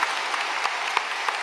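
Congregation applauding during an early-morning worship service at Yoido Full Gospel Church, a dense, steady roar of many hands clapping in a large hall, with a few sharper claps standing out.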